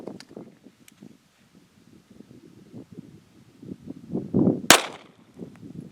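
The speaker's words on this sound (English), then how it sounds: "Getting ready to shoot 22 mag, 45 grain by Hornady." A single sharp gunshot from a Kel-Tec PMR-30 pistol firing Hornady 22 Magnum 45-grain FTX Critical Defense rounds cracks out loudly outdoors, preceded by rustling and wind noise.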